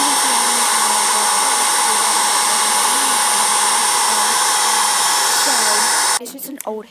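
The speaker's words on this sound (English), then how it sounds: "so it's just an old hair dryer that I used for like a couple seconds or a couple minutes on low." An old hair dryer runs on its low setting to dry squishy paint, giving a steady, loud whirring blow that carries on without a break for about six seconds before it cuts off.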